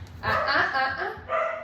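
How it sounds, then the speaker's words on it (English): A second dog barks off to one side in a short burst of yips and woofs, fairly close and lively, over room noise with no speech. "I do apologize for that other dog barking."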